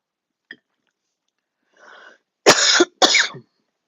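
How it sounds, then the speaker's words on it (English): Two loud, close coughs from a man in the middle of a casual chat, preceded by a faint click and a soft breathy rasp, then silence. "Please excuse the cough."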